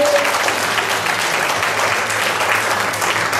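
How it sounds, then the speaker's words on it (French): Steady, dense applause from an audience at an evening awards ceremony, continuous clapping filling the room with no voices standing out. "Donc on applaudit encore une fois nos trois champions."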